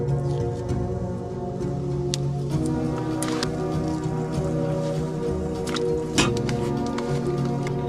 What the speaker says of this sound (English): I'm gonna go ahead and cut the bone out, cut off the grizzle, put that in the pot first.